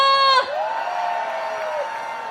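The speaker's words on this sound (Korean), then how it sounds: "여러분, 한 번 더 함성 부탁드리겠습니다" A crowd at an outdoor election campaign launch rally in Incheon cheers and whoops after a loud tonal blast at the start, a steady sustained roar from many voices.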